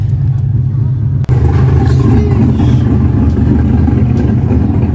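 A Camaro pulls up to a shop, its engine giving a loud, steady low rumble with a brief dip partway through, close by and continuous, while a voice talks over it.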